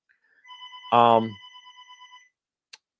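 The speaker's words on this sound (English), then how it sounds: "Hey Rye, you can just let that go to voicemail" A desk telephone rings after hours, a short ring with a sustained bell tone and a brief click at the end, close by, with a person speaking over it.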